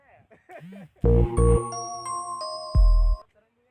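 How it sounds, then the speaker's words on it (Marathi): A bell rings close by with a few clear metallic strikes, and each one hangs in a long, ringing decay. Brief bits of talk come just before the first strike. "घंटा वाजते संपला आता"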